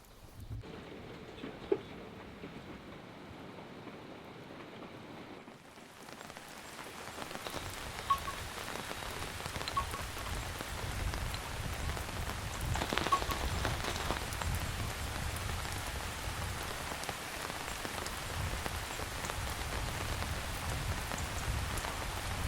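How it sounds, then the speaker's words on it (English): Rain patters on outdoor surfaces, quiet at first and then swelling into a steady, fuller downpour that continues to the end, with no voices. "so the rain has let up enough that we can get this started"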